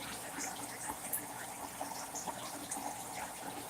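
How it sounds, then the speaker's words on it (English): Water trickles and splashes steadily into a small jar pond with duckweed growing on its surface, a continuous close, moderately quiet babble with small bright drips throughout. "I love the sound of the water."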